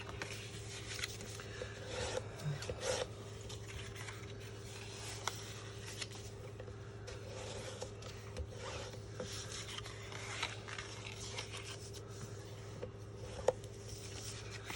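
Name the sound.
burnishing score lines on cardstock with bone folder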